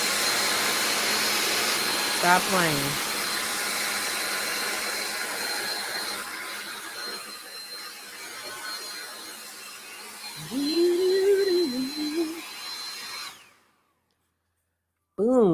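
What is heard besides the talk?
blow dryer running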